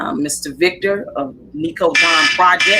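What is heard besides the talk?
alarm buzzer going off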